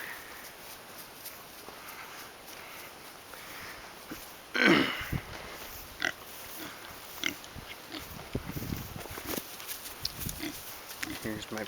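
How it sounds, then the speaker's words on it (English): Pigs in a small farm pen grunt and snuffle nearby, with one louder squeal partway through and scattered low oinks and shuffling around it. "Here's my pigs."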